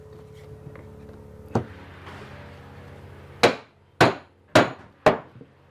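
A chisel chopping wood for dovetails on a dressing table side, one sharp mallet strike and then four crisp, evenly spaced knocks near the end, close and clear against a quiet room.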